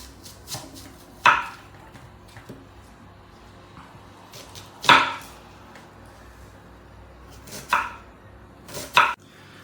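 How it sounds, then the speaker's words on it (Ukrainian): A knife cuts an onion into quarter rings on a board, five sharp, loud chops spaced unevenly among soft slicing and handling sounds, close and without talk. "Ну, Ось одну я цибулинку порізав і зразу покладу в баночку."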